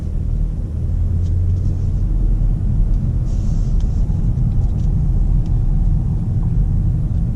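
A 2019 Toyota Camry with the Dynamic Force 4-cylinder engine on the move, heard as a steady low rumble of engine and road noise inside a quiet cabin, with no talking.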